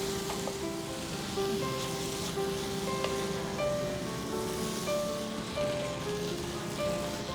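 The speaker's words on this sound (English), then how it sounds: "We'll mix this gently and we'll cook it on a medium flame for 2 minutes." Creamy cheesy macaroni cooks in a pan over a medium flame, giving a steady, even sizzle and bubbling hiss throughout, moderately loud and close, with no voices.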